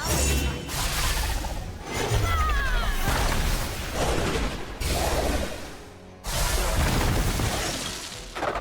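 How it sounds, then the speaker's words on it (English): Game explosions and impacts in Marvel's Midnight Suns, several loud crashing bursts with shattering and whooshing effects spaced across the stretch, each fading before the next hit. "Kinda wanna gather these people closer to this explosion, so let's do that."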